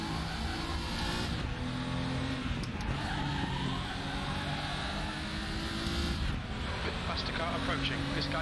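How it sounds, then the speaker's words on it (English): Onboard an enduro race car in the ESR Enduro 2020 series, with steady loud engine drone throughout and a faster car closing in from behind, broken by brief tyre and mechanical bursts, while a voice talks over the noise. "Faster car approaching."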